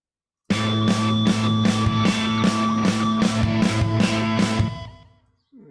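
Distorted, gritty synth holding a thick buzzing tone with about ten rhythmic pulses, played loud and alone, then cut off and fading out near the end.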